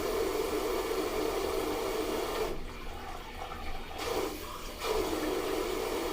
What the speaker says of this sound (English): We're going to rinse this out real good. Get some hot water going here.